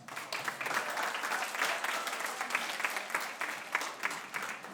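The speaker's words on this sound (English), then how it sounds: "students, please give your parents a round of applause." Students at a spring band concert applaud their parents in the audience. The clapping is lively and fairly distant, with a dense patter and scattered sharper claps, and it continues without a break.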